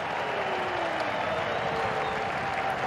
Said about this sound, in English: Listen to the home crowd.